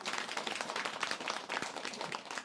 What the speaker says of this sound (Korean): 우리 아들 박수 한번 쳐줄까?